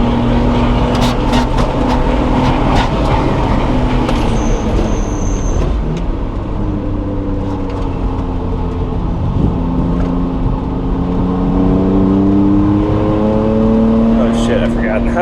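A BMW E36 M3 sedan track car drives on a circuit from the cockpit, its engine droning loud and steady as the revs rise and fall through the gears, with faint talk inside the car.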